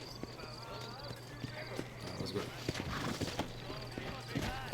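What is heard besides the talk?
horse hooves clip-clop in a video game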